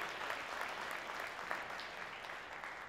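An audience claps at a forum event, a steady, fairly faint wash of applause that holds evenly for a few seconds, heard at a distance in a large room.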